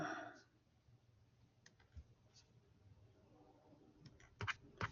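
Light clicking of keys on a calculator as numbers are punched in, scattered soft taps that build to a few sharper presses at the end, faint and close.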